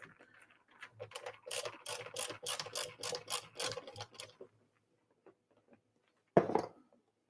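Screws being driven into an arcade cabinet with a ratcheting tool, a run of quick clicking strokes for several seconds, then a pause and one sharp knock.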